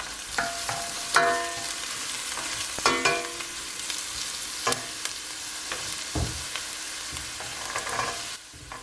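Onions and carrots sauteing in olive oil in a pan, a steady close sizzle with scattered clicks and scrapes of stirring, and no voices.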